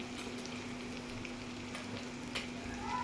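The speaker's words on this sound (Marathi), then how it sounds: "हे सगळं फ्राय करून घ्यायचं" Spices with red chilli powder, turmeric, garam masala and coriander powder fry in oil in a pan, a steady faint sizzle close by with soft occasional stirring clicks.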